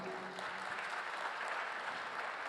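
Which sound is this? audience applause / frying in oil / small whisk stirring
audience applause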